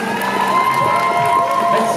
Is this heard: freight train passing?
no